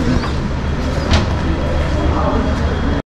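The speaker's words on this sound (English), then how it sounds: "The train is really moving slow, maybe 40 kilometers per hour" A train moving slowly, around 40 kilometres per hour, on the Addis Ababa to Dire Dawa railway in Ethiopia: a loud, continuous rumble and rattle that cuts off abruptly just before the end.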